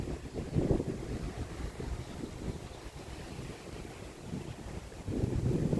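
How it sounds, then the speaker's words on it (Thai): Strong wind buffets the microphone outdoors among trees, a steady rushing roar with louder gusts near the start and end, no voices. "ลมค่อนข้างจะแรงมากครับ"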